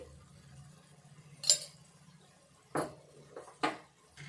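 A metal spoon clinks against a pan while chili powder is added and stirred into a tomato and egg curry, giving a few sharp, separate scrapes and taps over a quiet low hum.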